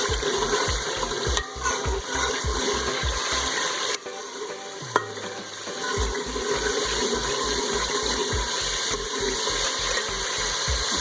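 Finely chopped green chillies stirred into a frying masala of mashed tomato, garlic and onion for a village-style potato and egg curry, giving a steady close sizzle with regular scraping stir strokes and a brief pause midway.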